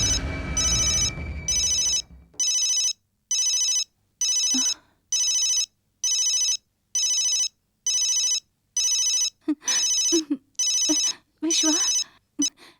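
A telephone rings in a steady sequence of evenly spaced electronic trills, about ten bursts with short gaps, loud and close, with brief voices breaking in near the end.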